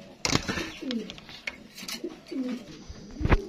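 A white Danish pigeon gives several short, throaty coos spaced apart, close by, with light clatter and background noise around them.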